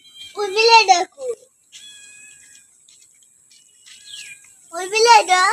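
A cat meows loudly and close by, two drawn-out calls at the start and end, while a child and an adult talk in the background of a home.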